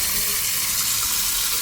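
A tap runs steadily, a full rushing stream of water close by that stays loud and even throughout the short moment, with no voices over it.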